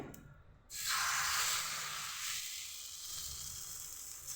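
Batter hits a hot greased pan and bursts into a loud, bright sizzle that eases into a steady, softer hiss, close up, with no talking.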